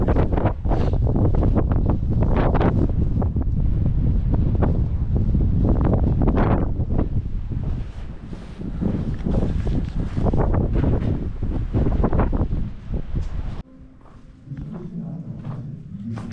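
Strong wind buffets the microphone outdoors at the hilltop village of Les Baux-de-Provence, a loud, roaring rumble in continuous heavy gusts that drop away briefly near the end before resuming more softly.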